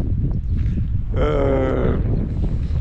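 Strong wind blows outdoors on a bicycle trip through Kyrgyzstan, where a tent is already in poor shape. A steady, loud, buffeting roar fills the whole stretch, with a brief whistling tone rising over it midway.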